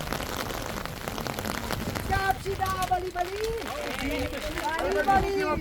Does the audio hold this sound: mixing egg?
no